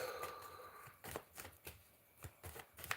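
Tarot cards are shuffled by hand in a quiet room, a few soft riffling bursts and taps coming in an uneven rhythm, close and faint with no talking.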